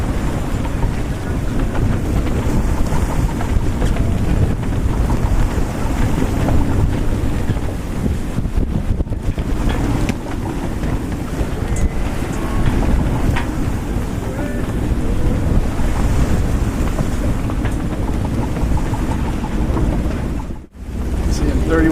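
Strong wind of about 31 knots roars across the microphone on a sailboat at sea near Gibraltar, with waves rushing against the hull in a loud, continuous wash throughout.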